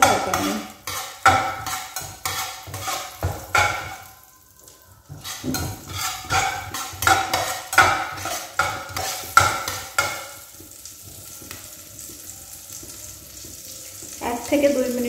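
Black mustard seeds fry in a cooking pan while being stirred, giving a busy sizzle with repeated scraping and clinking of the spoon against the metal.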